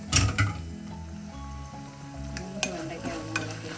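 Okra frying in a pan for a ladies finger and tomato curry, stirred with steady sizzling and a few scraping strokes and soft clinks of the spoon, close and alone.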